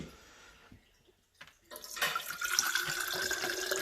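Melted snow water being poured into a container: after a quiet start, a steady close splashing, trickling stream begins and runs on to the end, with no talk over it.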